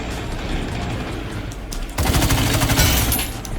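Rapid automatic gunfire in the Battle Teams 2 online shooter game, a dense loud burst of shots starting abruptly after a quieter stretch of background game noise.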